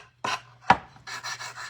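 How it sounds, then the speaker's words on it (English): Gator handheld sander working the edges of a fabric and twig Christmas tree, giving a few close raspy rubbing bursts, one sharp scrape, then a series of rhythmic back-and-forth strokes. "I'm just going to take my gator sander and we're going to sand the edges"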